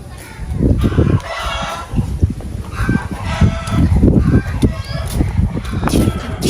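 Chickens cluck continuously and a rooster crows in a home yard area built for the birds, a busy, close flock sound with no talk.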